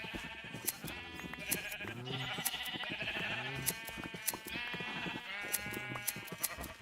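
Sheep in Minecraft bleat repeatedly in short, close calls that overlap into a busy flock chorus with small game clicks between them, and no voices.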